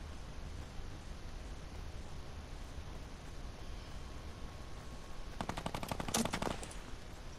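Gunfire in the Fortnite video game, a rapid burst of automatic shots that rattles out near the end after several seconds of quiet ambient hiss.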